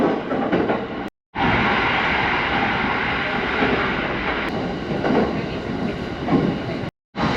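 On board a local electric train in Chiba Prefecture, Japan, a loud, steady rolling rumble fills the carriage, broken by two brief dropouts.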